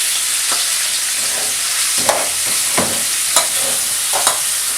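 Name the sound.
meat frying and sticking in a pot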